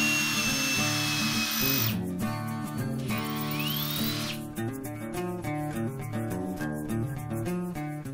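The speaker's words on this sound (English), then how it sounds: "I'll drill a smaller pilot hole right in the center" A power drill whirs steadily into a wooden game board, drilling a center pilot hole, its motor pitch dipping and rising as the bit bites, loud and close throughout.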